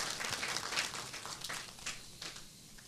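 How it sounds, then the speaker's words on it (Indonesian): A church congregation at a Sunday service applauding, a dense wash of clapping that gradually thins out toward the end. "saya mau kita semua tepuk tangan untuk Tuhan"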